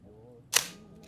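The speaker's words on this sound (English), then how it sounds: "Listen to this shutter." A single crisp mechanical click from a vintage camera shutter, sharp and close, standing alone against a quiet background.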